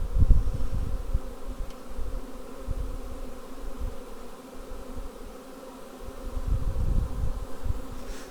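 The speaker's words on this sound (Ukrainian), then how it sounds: "Бджола літає, бджоли в принципі спокійні" A steady buzzing drone of many honeybees flying close by around a hive, swelling and fading slightly, with low rumbling wind-like noise underneath.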